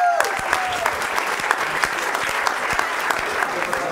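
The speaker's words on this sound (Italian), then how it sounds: "a cui facciamo un altro applauso ancora" An audience at the Agricola GreeNight event applauds a grilling team. The clapping is sustained and moderately loud, with sharp individual claps standing out in a steady wash.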